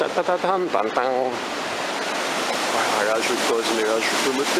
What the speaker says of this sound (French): J'adore cette cascade qui nécessite donc forcément une écluse sur le côté.